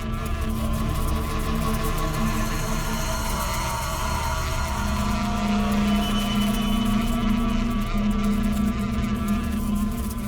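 Bees swarming around a hive in a crime drama scene, a continuous, dense droning buzz that stays loud and close throughout with a steady, unbroken hum.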